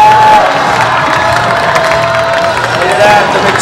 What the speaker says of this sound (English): How about a round of applause for the live skating of Tony Hawk right now?